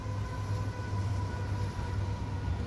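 In American Truck Simulator, a passing train's rolling wagons make a steady rumbling drone with a faint tonal whine on top, heard from a distance and without any voices.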